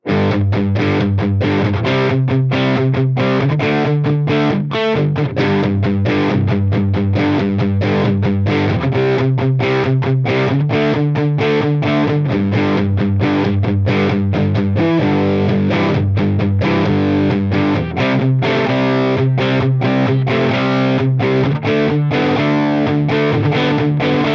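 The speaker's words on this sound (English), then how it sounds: "It sounds pretty chunky with some palm muted chords." Distorted electric guitar through a Line 6 Helix on a mid-gain tone plays chunky, palm-muted chords in a steady, driving rhythm, loud and continuous with no talking.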